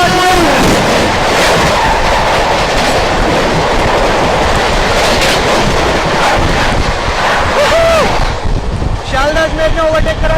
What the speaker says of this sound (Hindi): ये खड़ी भाई सिक्किम महानंदा एक्सप्रेस 15483 अलीपुरद्वार दिल्ली सिक्किम महानंदा को ओवरटेक करके गई शालदाज मेर